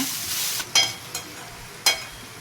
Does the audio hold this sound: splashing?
no